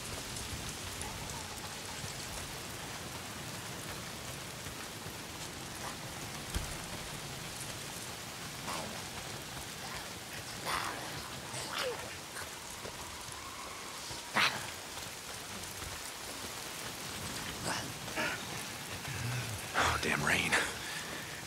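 Steady rain hisses throughout a scene in the video game Days Gone, with scattered louder drops and splashes and occasional distant noises layered over the constant patter.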